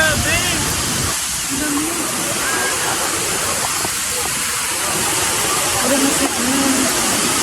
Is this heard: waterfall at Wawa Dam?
yes